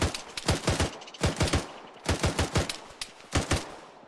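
Suppressing gunfire in the military video game Arma 3: loud, close automatic rifle bursts in about five rapid clusters of sharp cracking shots, separated by brief pauses.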